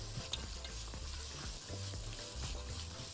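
Carrots and onions fry in a pan with a steady, close sizzle and occasional stirring clatter, loud and continuous with no voices over it.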